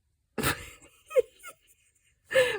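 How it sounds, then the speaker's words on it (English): A cat named Charlie snores in a quiet room, giving three soft, wheezy breaths separated by silence, close and faint. "Oh, it's Charlie snoring again."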